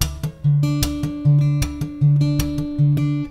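Fingerstyle acoustic guitar with strings left ringing after each pluck, playing a repeating pattern of percussive taps and sustained notes in a steady rhythm, close and clear with no talking.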